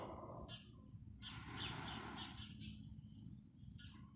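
Outdoor bird calls come in several short bright bursts over steady low background noise, fairly faint and at a distance.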